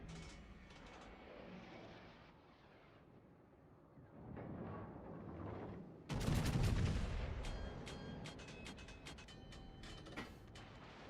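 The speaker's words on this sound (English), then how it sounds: "So that's the Hindenburg that's firing at me" The warship Hindenburg fires its guns in a naval video game: distant rumbling salvos build into a sudden loud, booming barrage with scattered sharp cracks and mechanical clatter, no talking.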